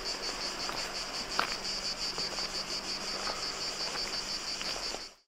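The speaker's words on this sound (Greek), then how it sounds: "Ακούτε τα τζιτζίκια," Cicadas buzz in a constant high-pitched chorus with a pulsing shimmer, steady throughout with faint scattered clicks beneath, fading out at the end, beside a river at the Roman aqueduct of Nicopolis in Agios Georgios, Preveza, Greece.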